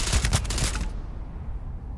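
A Beowulf rifle in Starfield fires a loud, rapid burst of about a second of close automatic shots, then cuts to quiet.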